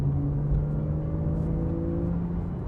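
A Porsche 911 991 Carrera S engine accelerates at about a third throttle: a steady, droning mechanical hum with a rising tone, heard from inside the car, with no talking.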